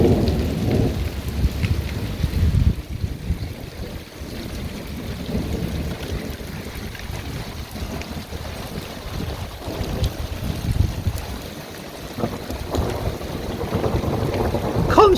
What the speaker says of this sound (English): Constant thunder, Trish.